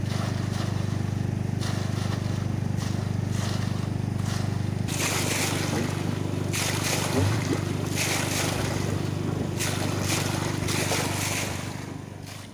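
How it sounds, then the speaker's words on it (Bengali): Water gushing and splashing from an 850 ft deep tube well as it is washed out with a compressor after boring. A steady loud rush sits over a constant low machine drone, and the splashing grows louder and harsher after the first few seconds. "কম্প্রেসার দিয়ে ওয়াশ করলে এভাবে বাড়ি খেয়ে পানিটা আসে।"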